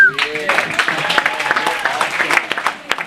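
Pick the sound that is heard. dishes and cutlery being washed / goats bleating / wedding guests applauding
wedding guests applauding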